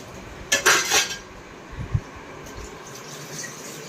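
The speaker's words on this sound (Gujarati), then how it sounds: "અને ટપુબેન વાસણ કરે।" Dishes, pots and cutlery clatter at a household sink, a loud burst of clinking and scraping followed by a few quieter knocks, with no voices.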